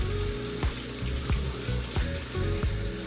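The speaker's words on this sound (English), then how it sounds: "In the same way, run warm water over your grills." Warm tap water runs steadily over microphone grills being rinsed at a sink, a continuous close splashing flow broken by a few soft knocks as the grills are handled.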